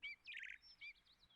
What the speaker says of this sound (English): play birdsong ambience